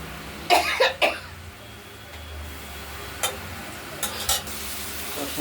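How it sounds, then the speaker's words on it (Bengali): Turmeric-spiced masala paste frying in oil in a pot for a desi chicken-egg curry with potato and onion: a few sharp spoon scrapes and stirs over a faint, low sizzle, with quiet gaps between strokes. "মশলাটা কষানো হয়ে গেছে তেলও বেরিয়ে গেছে"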